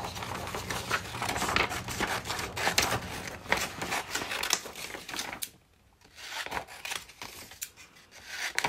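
Scissors cutting a paper watermelon shape for a fruit-themed gluebook page, close continuous snipping and rustling paper that pauses briefly before resuming.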